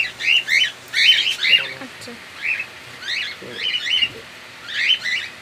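Pet parrots kept in cages give repeated sharp squawks and chirps in bursts while being sprayed with water during a very hot spell, with someone speaking briefly between the calls.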